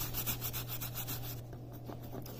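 A thumbnail scrapes spa wax residue off a granite surface in quick, rhythmic rubbing strokes close to the microphone, then stops after about a second and a half.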